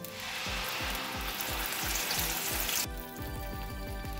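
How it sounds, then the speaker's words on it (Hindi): Tomato and garlic paste sizzles and fries in hot ghee with cumin, a steady crackling hiss with regular stirring scrapes beneath, close and continuous. "अब हम इसमें टमाटर और लहसुन की पेस्ट ऐड करेंगे।"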